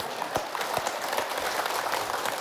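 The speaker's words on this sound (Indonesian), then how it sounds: "tepuk tangan dulu" Crowd applause at a religious lecture gathering, a dense, steady patter of many hands sustained throughout with a few sharper claps standing out near the front.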